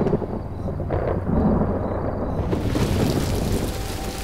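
Rain and a rolling thunderstorm in a Tamil horror comedy film, a deep sustained rumble with a steady hiss of rain, loud and close.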